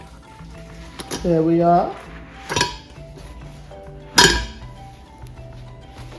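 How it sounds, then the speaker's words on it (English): A pound cake pan flipped over onto a metal cooling rack: a ringing metallic clank, then two sharp clattering knocks, close and distinct, with a brief spoken phrase in between. "So put the rack on top here, and then I'm going to flip it over."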